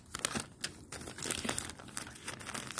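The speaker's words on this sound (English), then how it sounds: "So now if we unfold this paper," A sheet of paper being unfolded by hand up close, a run of crisp crinkling and rustling bursts at an irregular rhythm, with no talking.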